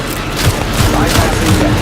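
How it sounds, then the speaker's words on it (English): Rapid gunfire from the video game Aliens: Fireteam Elite, loud and dense bursts layered with booming impacts and game effects, continuous across the whole stretch. "Open fire!"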